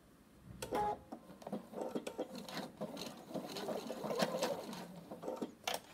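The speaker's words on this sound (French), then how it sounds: "je me remets sur l'endroit pour pouvoir surpiquer et avoir ma surpiqûre sur le dessus" A sewing machine topstitches fabric on the right side of an Easter bunny pouch, running in quiet, steady stitching bursts with small clicks and pauses.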